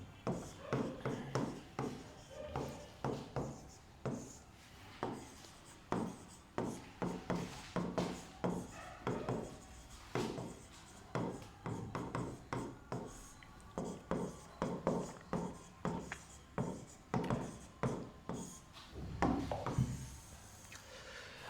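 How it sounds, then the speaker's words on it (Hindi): Chalk or marker scratches steadily across a classroom board in short, rhythmic strokes, a dry scraping pattern repeating for the whole stretch, close and fairly quiet. "सबसे पहले अगर बोर्ड पे कुछ लिखने जा रहे हैं तो अपने गुरु का ही समर्पित लिखेंगे"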